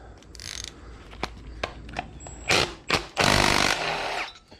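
A ratchet wrench works at bolts on a small block Chevy engine, giving clicking pawl sounds and a few sharp strained bursts of metallic noise as the bolts are broken loose, close up.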